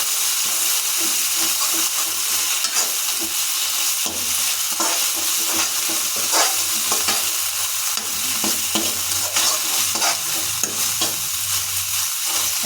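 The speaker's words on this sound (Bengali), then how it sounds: "আদা রসুন পেস্ট যোগ করেছি তাই আমরা হাতে মিনিট খানি নাড়িয়ে নেবো" Ginger-garlic paste frying in a wok sizzles steadily and close up while a utensil stirs it, with repeated scraping strokes against the pan and no voices.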